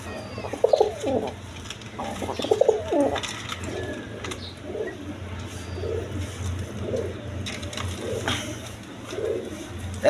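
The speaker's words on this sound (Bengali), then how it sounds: "একদম কোয়ালিটি সম্পন্ন কবুতর।" Domestic pigeons coo close by in a series of soft, low, rolling calls that come in repeated bursts over a faint background hum.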